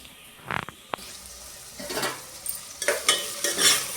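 Onions fry in a pan for village-style egg scramble, a few sharp clatters of stirring at first, then rising sizzle with scraping stirs, close and fairly loud.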